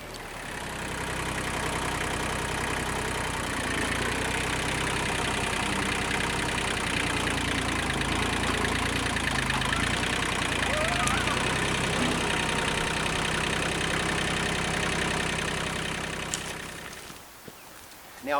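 A tractor engine runs steadily at close range, a continuous low rumble with a faint knocking edge that holds for most of the stretch before cutting off near the end; no talking.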